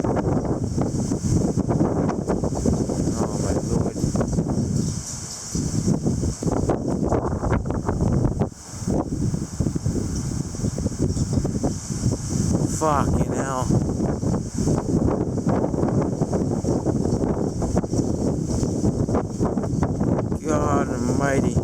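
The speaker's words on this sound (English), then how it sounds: "I thought it was just going to be like, 50, 60, kind of gusty winds" Strong, gusty windstorm in Kelowna, BC, roaring and buffeting the microphone almost without pause, with a brief lull midway; a person exclaims loudly over the gusts.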